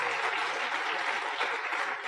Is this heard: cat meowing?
no